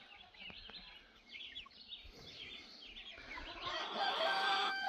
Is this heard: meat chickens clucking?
yes